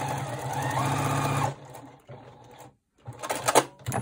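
A sewing machine stitches along a folded raw edge of fabric, running in a steady close whir for about a second and a half, then stopping and starting in short bursts with brief pauses between.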